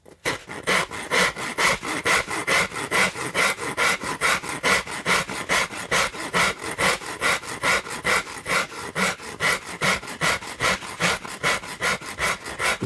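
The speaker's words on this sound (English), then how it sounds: "With this faceting process, though, it's so quick with a Shinto saw rasp." A Shinto saw rasp facets the wood of a guitar being built, rapid regular rasping strokes about three per second, loud and close, continuing steadily without pause.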